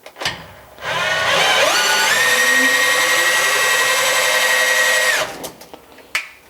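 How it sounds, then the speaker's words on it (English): A power drill drives a machine table, its motor whine climbing gradually in pitch before holding steady for several seconds, then winding down, with a couple of short clicks at the start and end. "At level 10, the drill can move the table in both directions."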